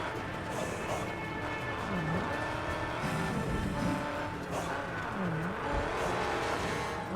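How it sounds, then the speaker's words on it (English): Car driving in the Mad Max video game, a steady engine drone with repeated swooping rev changes and gritty tire and road noise, threatening to spin out on a corner, no talking. "the car was threatening to spin out just there"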